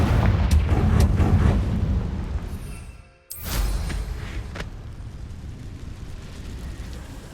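A Confringo fire spell explodes in Hogwarts Legacy with a loud, rumbling blast that fades into near silence, then a sharp burst and crackling fire noise that slowly dies away. Nobody speaks.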